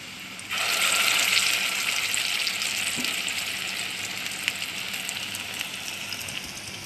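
Lentil cutlets frying in a pan over a low gas flame: a steady, dense sizzle starts abruptly after a brief quiet moment and holds close and fairly loud throughout, with no voices.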